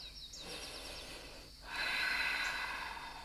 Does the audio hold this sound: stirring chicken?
no